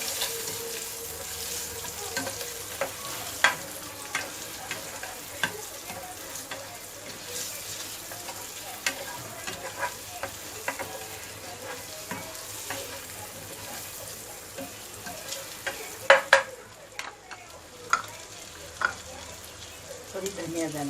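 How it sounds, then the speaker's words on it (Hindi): Chillies fry in a pan with a constant close sizzle, scattered with light clicks and taps of a spoon against the pan, a few sharper knocks near the end. "थोड़ी इसमें मिर्ची डाल दी। इसको ऐसे ही फ्राई करूँ।"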